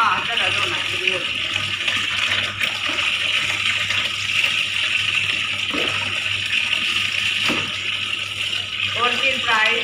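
Clothes being washed by hand in water with detergent, heard as constant splashing and sloshing close by, with someone talking over it throughout.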